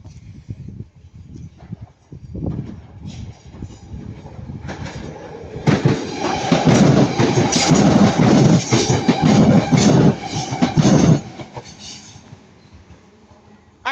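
A Class 323 passenger train on the Manchester Piccadilly to Hadfield service rumbles past at Ardwick, swelling from a quieter approach into a loud, dense roar for several seconds before fading, with no talk.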